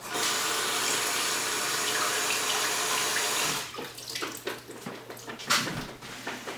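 Soaked raw cashews rinsed under a running kitchen tap, a loud steady stream for about three and a half seconds, then scattered splashes and clatter as the water stops.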